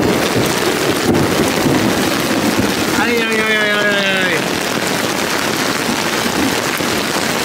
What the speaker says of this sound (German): Der Regen muss weg, das ist richtiger Starkregen. Mit ganz viel Blitzen und sowas.